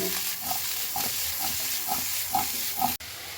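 Boiled broccoli, beans, carrots and peas tossed in a pan, giving a steady soft sizzle with about six evenly spaced scraping stirs, close up and without talk.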